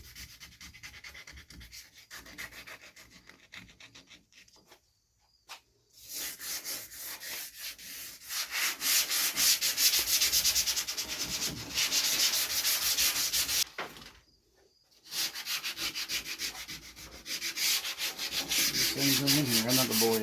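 Hand sanding of a Dodge Dakota tailgate with 100 grit sandpaper: loud, steady scratchy rubbing strokes, briefly pausing twice, with no talking.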